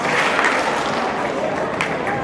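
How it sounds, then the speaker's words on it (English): Crowd at a rally applauding, a dense wash of hand claps from many people that sounds like sustained applause rather than one sharp clap, with voices mixed in. "Clap once if you hear me."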